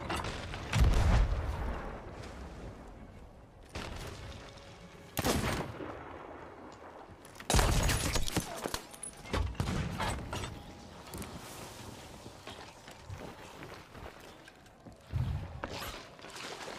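Ship cannons firing chain shot in Sea of Thieves: several heavy booming blasts spaced a few seconds apart, with creaking wood and rumbling aftermath between the shots, loud and close.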